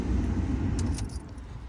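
The heater blower fan of a Ford Focus 1.6 runs at a higher speed setting, a steady loud low whooshing rush of air filling the cabin with slight jingling.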